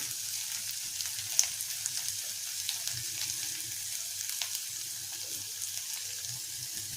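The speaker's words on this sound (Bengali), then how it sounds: "রসুনটা একটু ভেজে নেব" Chopped garlic frying in oil in a wok, a steady soft hiss and crackle running throughout, with a brief sharper clink near the start.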